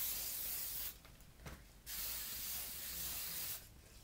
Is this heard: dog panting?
no